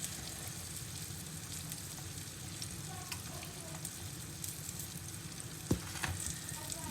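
Thick slices of green tomato in a cornmeal coating fry in a pan, giving a steady, close crackling sizzle, with a few sharper pops and clinks near the end.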